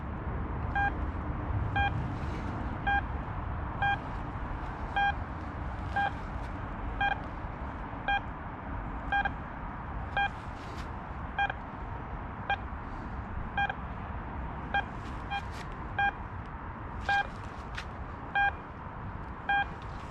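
Deeptech Vista X metal detector with an 8-inch concentric coil, sounding a series of short regular tonal beeps roughly every second over low background rumble, with a few sharp clicks from the coil sweeping.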